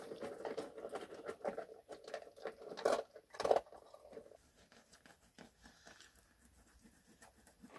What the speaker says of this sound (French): il s'est mis à pleuvoir. Je sais pas si vous entendez. Ça tombe quand même pas mal.